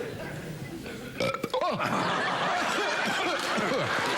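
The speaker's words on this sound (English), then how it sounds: "treat the burp as if it were a socially acceptable cough" A loud, drawn-out burp erupts after a brief quiet stretch on a television talk show, followed by bursts of laughter and chuckling from the studio audience.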